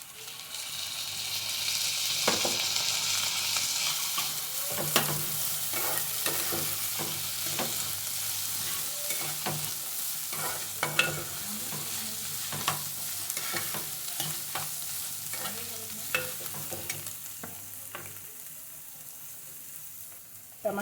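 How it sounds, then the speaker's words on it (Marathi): Onions for instant mutton keema sautéed in a pan until light brown, a long steady sizzle broken by frequent scraping stir strokes and light knocks of the spatula, close and even throughout. "तर कांदा आपण चांगला परतून घ्यायचा आहे, थोडासा बदामी रंगाचा होईपर्यंत"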